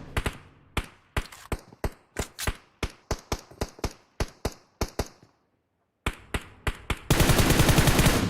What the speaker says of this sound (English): Right now, they're shooting through that smoke just to see if they can get lucky.